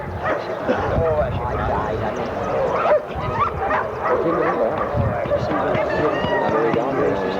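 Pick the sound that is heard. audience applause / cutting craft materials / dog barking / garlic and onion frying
dog barking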